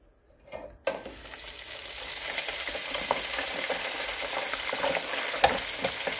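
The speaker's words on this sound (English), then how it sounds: "If they're all breaded, just put them in the fryer." Breaded chicken wings dropped into a deep fryer erupt into a steady, loud bubbling sizzle after a brief quiet start, with a few soft clinks near the end.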